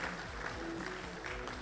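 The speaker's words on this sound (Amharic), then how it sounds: "እባካችሁ ሞቅ ባለ ጭብጨባ" Applause from the audience at an award ceremony for institutions and leaders, a steady wash of clapping heard at moderate distance.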